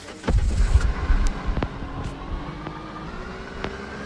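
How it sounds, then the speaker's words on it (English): An old 1998 Mars Mini car in a Roblox game drives with a low throbbing engine note, louder at first and then settling into a steady, moderate rumble with a few brief clicks. "Let's try this old Mars Mini"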